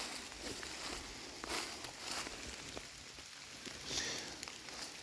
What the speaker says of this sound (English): It's pouring rain today, by the way.